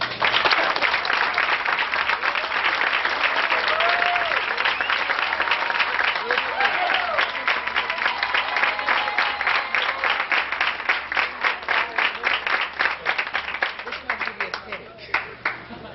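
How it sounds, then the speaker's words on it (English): Sustained applause from an audience at a 2001 Hillwood awards event, many hands clapping steadily and fairly loud for the whole stretch, with a faint voice underneath and the clapping thinning toward the end. "we'll give her a round of applause"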